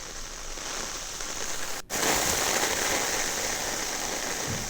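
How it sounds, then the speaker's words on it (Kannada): Heavy monsoon rain pours down in Malnad, a dense, loud, continuous hiss of downpour that stays steady throughout apart from one very brief break. "ಮಲೆನಾಡಿನಲ್ಲಿ ಮಳೆರಾಯನ ಅಬ್ಬರ ಜೋರಾಗಿರುವಂಥದ್ದು ನೋಡಿ."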